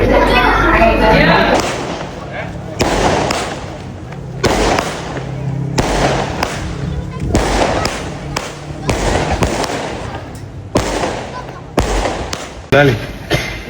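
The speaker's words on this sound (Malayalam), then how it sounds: "പടക്കം പൊട്ടൽ കഴിഞ്ഞു." Firecrackers burst at Ramadan iftar time in a loud, irregular series of sharp cracks and thumps, some close together, with voices faintly heard between them.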